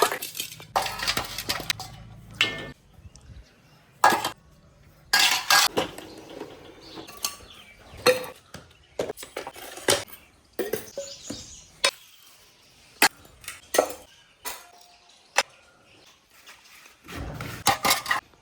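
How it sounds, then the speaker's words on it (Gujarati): Dishes and cutlery being set down, with repeated clinks and clatters at irregular intervals, close by, with brief quiet gaps between the knocks. "આપણે એક જગ્યાએ જ્યાં ધોતા હોય ને ત્યાં વાસણ મૂકી દઈએ"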